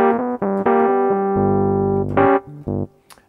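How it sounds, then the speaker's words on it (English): A Nord Wave 2 electric piano patch with reverb plays a short run of bright, bell-like chords and notes, one held longer, ringing out clearly and alone with a soft reverberant tail. "I'm going to change now to an electric piano sound,"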